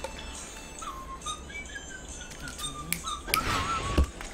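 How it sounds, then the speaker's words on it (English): Someone whistles a wavering, off-key tune in short, thin phrases at low volume, with a louder burst of noise near the end, during a casual baseball game. "Bad whistling."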